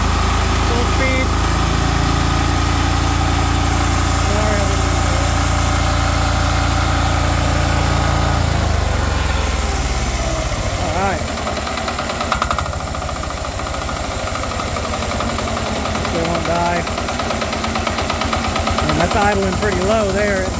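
A 10HP diesel generator engine rumbles loudly, first running fast at full speed, then dropping to a rough, uneven low idle that sputters as if about to stall.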